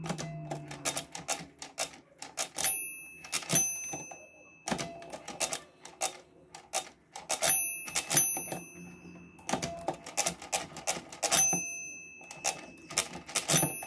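The crank handle of a Walther mechanical arithmometer is turned, producing repeated clusters of sharp metallic clicks and clacks with a ratcheting rhythm and brief pauses, close and fairly quiet.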